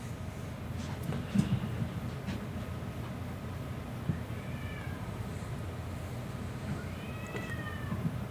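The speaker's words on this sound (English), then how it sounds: "My cats are making all the noises up there." Two faint meows from cats, spaced a few seconds apart, over a steady low background rumble.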